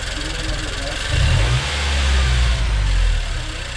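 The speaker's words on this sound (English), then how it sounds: "That rev is fine, it's probably looking consistent." A Nissan Juke Nismo RS engine with a newly fitted GFB blow-off valve, revved in a garage: a steady idle rises into two moderate revs and settles back, loud and close.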